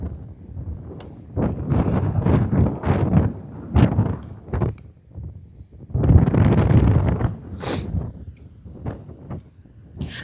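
Gusty wind on a beach buffets the microphone in loud, irregular rumbling bursts that rise and fall over several seconds, with no clear talk.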